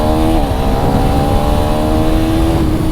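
A loud KTM Duke 390 Gen 3 motorcycle engine revs steadily upward, its rising harmonic whine continuous and close, accelerating hard from 0 to 100 with no voices.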